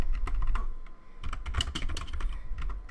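Fast bursts of close computer keyboard typing, a clatter of keystrokes that pauses briefly near the middle, then resumes in a dense run with no talking.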